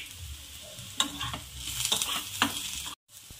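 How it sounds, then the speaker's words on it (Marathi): Three to four garlic cloves and ginger pieces roast in a hot pan for dhaba-style paneer masala, giving a steady close sizzle with several spatula scrapes before a brief cutoff. "3 ते 4 लसूण पाकळी आहे आणि अद्रकचे तुकडे यामध्येच आपण भाजून घेऊ"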